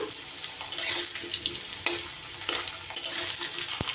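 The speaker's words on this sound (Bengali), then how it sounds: "আলুটা আমি একটু লাল লাল করে ভেজে নেব" Potatoes frying in hot oil until browned for a hilsa and taro recipe: a steady, close sizzle with occasional stirring clatter, no voices.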